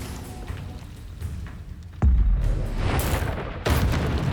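A Bombarda spell detonates in Hogwarts Legacy during a busy wand duel, a heavy booming blast at about two seconds followed by another bright burst near the end, over constant rumbling combat noise with no voices.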